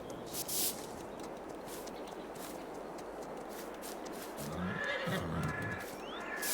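Horses in the farming video game Farming Simulator 22 give a loud whinnying neigh midway, with faint hoof clip-clop and a steady ambient farm hiss around it.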